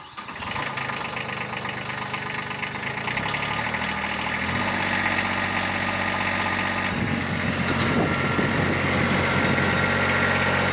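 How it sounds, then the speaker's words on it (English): A small Kubota tractor engine runs steadily outdoors, a continuous mid-to-low diesel rumble with a slight rise in intensity partway through and no speech. "This is another instance of being so thankful to have tracked down our little Kubota tractor earlier this year."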